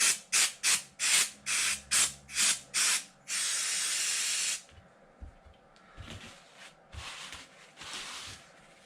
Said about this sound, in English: got some brake clean here. We're going to go ahead and get these things cleaned up a little